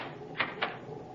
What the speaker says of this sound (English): You may lock the door now.